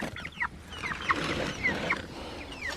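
Meat chickens moved onto green grass cluck softly and repeatedly nearby, with a few short, scattered calls over the quiet outdoor background.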